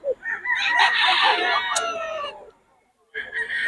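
A Lemon Sweater gamecock at a Bocaue cockfighting farm crows loudly and close, one long drawn-out crow that breaks off into a brief silence before another crow begins.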